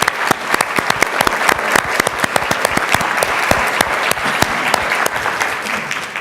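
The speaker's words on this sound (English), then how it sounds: "I want everybody to clap for you." Loud, close audience applause at a dental industry annual celebration and awards event, many sharp individual claps forming a sustained, even ovation with no talk over it.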